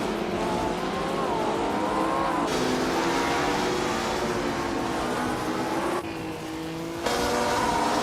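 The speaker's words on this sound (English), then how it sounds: "Hingle McCringleberry is driving a 1965 Honda R at 272." A 1965 Honda race car in a racing video game screams past at speed, its high-revving engine a loud, continuous whine that shifts pitch with gear changes, briefly dipping before surging again.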